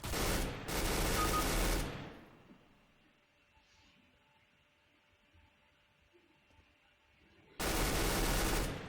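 Two rapid bursts of automatic gunfire sprayed at a wall in the video game CS:GO open the clip, a quiet stretch with faint ambient tones follows, then another sustained burst at the end.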